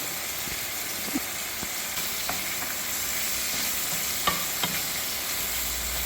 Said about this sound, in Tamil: பட்டரில் நல்லா இறாலை பிரட்டி விட்டுருங்க. பிரட்டி வேக விடுங்க.